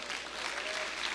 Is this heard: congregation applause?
yes